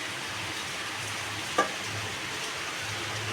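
Boiled papaya is stirred in a pan with a spoon: a soft, steady scraping and low sizzle, quiet and continuous, with one brief clink midway.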